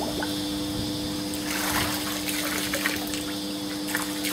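Water splashing and trickling in a steady, close rush at a house, with a constant hum running underneath and no one talking.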